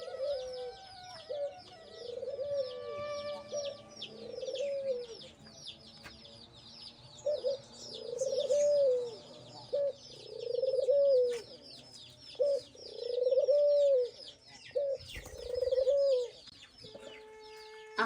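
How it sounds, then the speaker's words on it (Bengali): A dove coos in steady, evenly spaced phrases, repeated about ten times, while chicken chicks peep high and busily throughout, with no one speaking. "এইভাবেই এই বাচ্চাগুলো ঘুঘু পাখিকে আক্রমণ করে"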